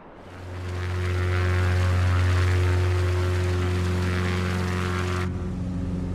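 A propeller plane engine drones loudly in Microsoft Flight Simulator 2024, a steady humming tone that swells up over the first second, holds, then changes abruptly near the end with no speech.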